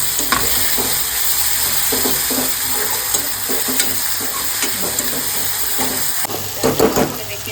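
Onion and tomato fry in a pan with a steady hissing sizzle, punctuated by repeated scraping stirs and clinks of the utensil, close and fairly loud.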